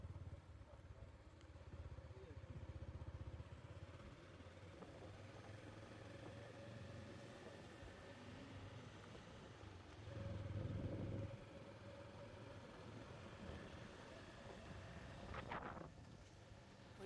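A motorbike ridden on Saint Martin's Island carries a steady low engine drone with heavy wind buffeting on the microphone, swelling briefly louder partway through while people talk over it.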